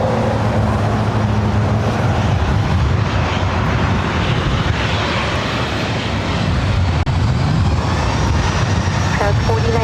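A Boeing 737-900 jet airliner at Los Angeles International Airport gives off a loud, steady broadband engine roar that swells and shifts throughout, with a brief sharp click near the end and faint talk underneath.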